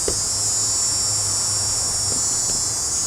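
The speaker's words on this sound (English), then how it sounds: "The cicadas are sure humming in those trees up above." Cicadas drone in a steady, high-pitched hum that fills the whole clip, with a faint low rumble underneath.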